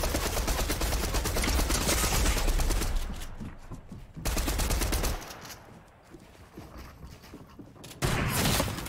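Gunfire in the video game Fortnite, including sniper rifle shots, loud dense volleys that come in several bursts separated by quieter gaps.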